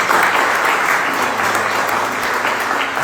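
A church congregation claps together, loud, dense and close, steady applause filling the whole moment without any speech on top.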